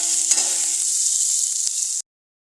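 Soya bean curry masala sizzles steadily in a pan as it is stirred, a close, continuous frying hiss lasting about two seconds before cutting off abruptly.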